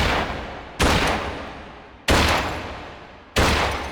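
Three loud, sharp gunshot sounds from a dry-fire shooting training game ring out alone at an even pace, each followed by a long, slowly fading tail.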